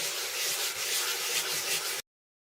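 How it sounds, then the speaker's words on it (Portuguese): Steady back-and-forth rasping of sandpaper rubbed by hand over a surface, continuous and close for about two seconds before stopping. "Eu não vou lixar assim, não. Eu vou lixando assim, ó."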